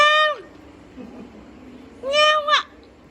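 A cat meows twice, a clear close call at the start and another longer, wavering one after a pause of about two seconds, over quiet background.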